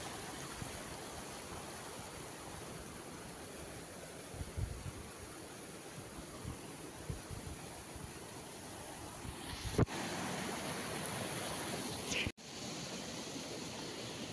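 A seasonal stream running high in the rainy season near a village, giving a steady, continuous broadband rush of flowing water close by, with a few brief knocks and one sudden cut near the end.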